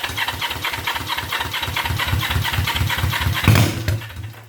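Honda CB350 motorcycle engine on jump start, a fast rhythmic cranking chug repeating steadily, then a louder pop as it briefly catches before fading, close and loud.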